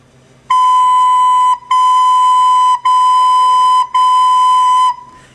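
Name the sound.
recorder notes tongued with da articulation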